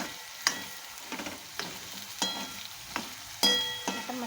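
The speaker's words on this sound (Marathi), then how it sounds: "थोडं चांगलं परतून घेऊया." Garlic chutney fries in hot oil for a potato and onion curry, giving a steady soft sizzle broken by repeated scraping clicks of a spoon stirring the pan, close and with no talk.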